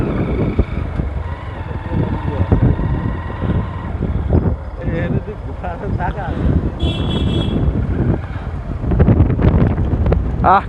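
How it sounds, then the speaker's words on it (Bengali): Strong wind roars and buffets the microphone during a night motorbike ride through a Bangladeshi village, a steady loud rush lasting throughout, with people talking over it. "আহ কি বাতাস!"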